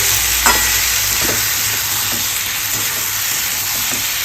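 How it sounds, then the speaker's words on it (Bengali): Food is stir-fried in a pan during Bengali home cooking, a steady close sizzle with a few soft scraping stirs and clinks over constant frying hiss. "এটাকে ভালো করে কষিয়ে দিই"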